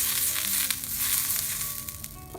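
Chitoi pitha rice batter cooking on a greased hot pan: a steady, close, continuous hiss and sizzle with faint crackles throughout, no voices.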